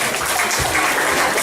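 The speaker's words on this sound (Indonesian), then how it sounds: "Ya, tepuk tangan untuk semua." A seminar audience at a motivational talk on entrepreneurship claps together, a dense, loud, continuous wash of applause filling the room.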